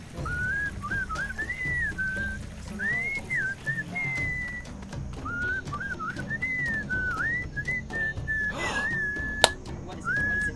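A woman whistles a wandering, melodic tune in the video game Sam & Max: Moai Better Blues, a series of sustained whistled phrases over a low background, with a sharp click near the end.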